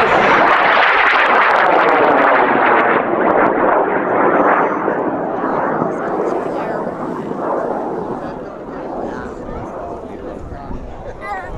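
A high-power model rocket launching on a large motor, a loud sustained roaring rush that starts close and slowly fades as it climbs away, with voices heard under it.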